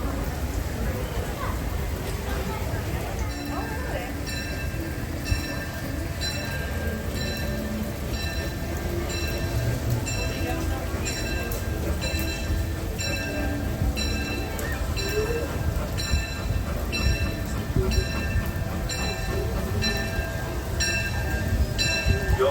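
Disneyland Railroad train riding through the rain, steady rumble and clatter of wheels on rails under a constant rain hiss, with a bell-like rhythmic ringing pattern joining in and a voice speaking over it.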